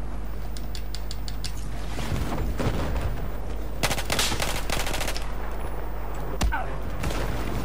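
Rapid gunfire in a Battlefield 4 Conquest match on the Golmud Railway map, bursts of sharp shots cracking in quick succession, close and loud, with a couple of heavier bangs against a constant low rumble.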